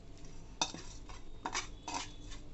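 Sweet corn pakoda ingredients are mixed in a bowl, heard as a few soft, quiet scraping and clinking strokes of a spoon against the dish, spaced irregularly against a low background hum.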